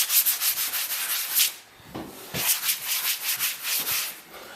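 Sandpaper scrubs over imperfections in an office wall during renovation, a close, rhythmic run of rasping back-and-forth strokes with a short pause midway before the strokes resume.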